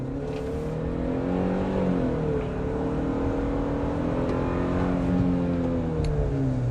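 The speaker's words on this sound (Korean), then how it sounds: "지금 오르막인데 한번 살짝 가속을 해볼게요." A Tasman SUV with a 2.5-liter turbo engine accelerates up a hill, its engine note rising in smooth, sweeping pitch climbs, heard as a moderate, continuous whir from inside the cabin.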